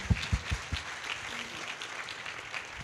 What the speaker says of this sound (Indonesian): Tepuk tangan dong buat TNC dan manajemen.